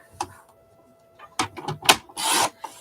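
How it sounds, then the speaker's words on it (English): Scissors trimming cutouts from a gutted magazine, with a few separate bursts of paper rustling and cutting followed by a longer dense scratchy rasp near the end, fairly close and otherwise quiet. "Let's get these trimmed up."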